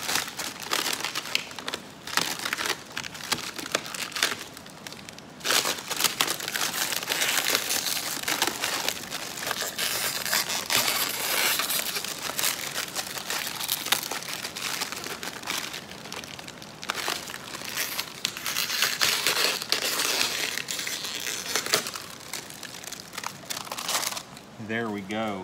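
Window tint film is peeled off a car's glass and crushed into a ball, producing loud, continuous crinkling and crunching of plastic film at close range for a long stretch, with a voice briefly at the end.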